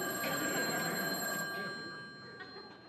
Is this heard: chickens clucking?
no